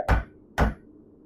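Three sharp hammer blows on hot forged metal, striking the edges of a bar to shape it into an octagon for box hardware, evenly spaced and loud with short ringing decays.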